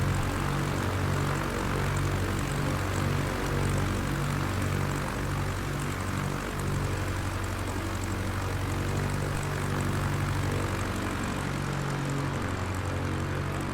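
A propeller airplane engine in a flight video game drones steadily and loudly throughout, a continuous low throbbing hum with no breaks.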